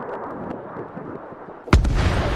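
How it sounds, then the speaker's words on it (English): A missile strikes its target, a sudden loud explosive boom after a low rumbling stretch, followed by a sustained roaring blast tail. "20 minutes later, the missile reaches its target."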